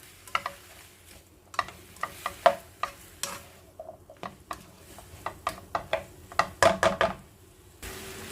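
Broccoli and chicken wings are stir-fried in a pan, with a soft sizzle under irregular scraping and clinking of a utensil against the pan.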